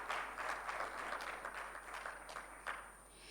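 An audience at a microfinance tech summit applauds as a speaker walks up to the stage, a dense, steady wash of clapping heard from a distance and fairly faint.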